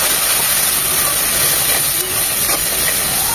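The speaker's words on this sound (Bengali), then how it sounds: "একটু পানি দিয়ে মশলাগুলো কষিয়ে নেব।" Chilli powder, roasted cumin powder and fried ginger-garlic paste hissing loudly after a splash of water hits the hot pan for a singi fish curry, a strong continuous steamy sizzle up close with no talking.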